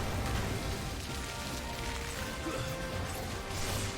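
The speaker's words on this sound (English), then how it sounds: "More acid rain, huh?" Steady acid rain hissing in Final Fantasy XVI, a dense continuous wash of falling drops with scattered heavier impacts, uniformly loud and unbroken with no voices.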